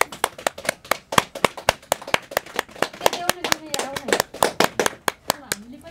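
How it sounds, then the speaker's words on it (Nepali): An audience at a book launch claps enthusiastically in a quick, crisp, continuous round of applause, with a few voices calling out partway through. "ल एकचोटि जोरदार ताली बजाएर सम्मान गरौँ।"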